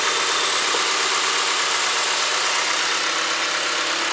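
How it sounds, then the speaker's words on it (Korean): A Hyundai LF Sonata with about 90,000 km idles at a steady, even hum, close and constant, with no talking. "엔진 소리도 좋고."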